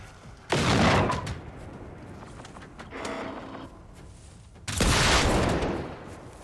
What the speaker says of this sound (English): Ooh, the guns sound good now.